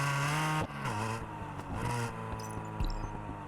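Sports car engine in a racing video game revving and shifting gears, pitch climbing then dropping with each change, loud and close with a sustained growl.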